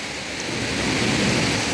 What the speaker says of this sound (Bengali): বাবা পুরা ধোঁয়াধার বৃষ্টি শুরু হয়ে গেছে